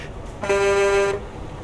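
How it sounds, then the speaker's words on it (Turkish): A truck air horn in Euro Truck Simulator 2 blares once, a single loud, steady, buzzy blast lasting under a second over quiet in-game background. "arabanıza havalı korna takmasanız daha havalı kornası oluyor"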